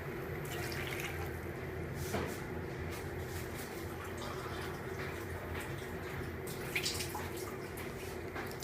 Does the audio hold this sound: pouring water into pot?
yes